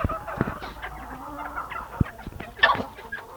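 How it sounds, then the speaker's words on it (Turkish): Roosters and hens of ispenç and ataks breeds cluck and call close by, with a sharp louder squawk near the end and no one speaking. "Tabi horozlar gelmiş."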